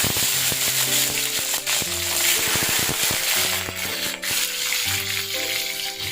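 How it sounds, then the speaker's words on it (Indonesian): Chili, shallots and garlic frying in oil for sambal, a steady close sizzle with stirring scrapes and clinks of a utensil against the pan, continuous throughout. "ini aku di sebelahnya lagi goreng cabai sama bawang merah, bawang putih untuk sambal ya"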